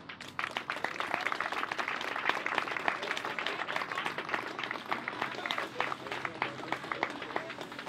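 An outdoor crowd at a rainy peace vigil in Vienna claps for itself, a dense, steady spell of applause that is moderately loud and close, going on for several seconds with no break.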